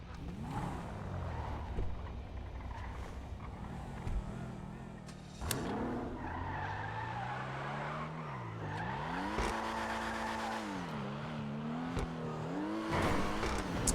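A vehicle in a video game drives along with its engine revving up and down while the tires squeal and skid repeatedly, loud and close throughout, with no talk.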